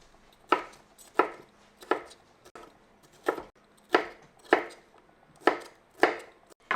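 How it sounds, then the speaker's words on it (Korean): A knife dices octopus salad ingredients into squares on a cutting board, about nine sharp, evenly spaced chops ringing out close and clear with nothing else around them. "요거는 이제 사각으로 이렇게 해서 썰어 주시면 됩니다."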